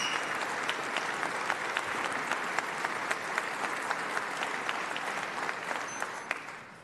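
A large audience applauds after a governor's State of the State address, dense and sustained clapping filling the hall at an even level, with scattered sharper claps throughout and no speech.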